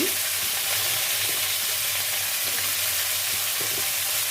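Eggplant and other vegetables go into a pan of potatoes already frying in oil, producing an even, continuous sizzle with a few soft knocks as pieces land, over a faint low hum.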